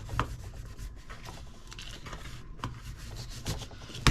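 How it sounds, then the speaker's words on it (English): A hand rubs paper onto a freshly glued handmade note card holder, producing soft scratchy strokes in an irregular rhythm, close up, with a few light taps and no talk. "I'm just going to stick my hand in there and give that a rub"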